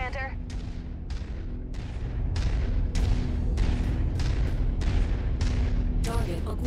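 Heavy weapon fire from a video game rings out as repeated loud, booming shots at a steady rhythm, close and continuous, with a sustained rumble building partway through.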